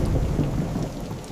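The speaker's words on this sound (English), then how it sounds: "Oh, that lightning was so close." Low, continuous rumble of nearby thunder from a close lightning strike, mixed with steady rain, fairly loud and filling the short stretch without any voice.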